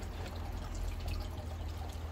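Water streams steadily out of an AQQA electric aquarium gravel cleaner, a continuous close pouring and trickling wash with no pauses and no voices.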